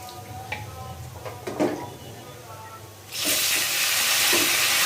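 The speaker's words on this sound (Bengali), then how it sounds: "এক পিস করে আগে একটু তেলের ভিতরে ভাজা দিয়ে নিব" Beef trotter nehari pieces with onion drop into hot oil, and after a few soft kitchen knocks a loud, steady, close sizzle suddenly bursts up and keeps going.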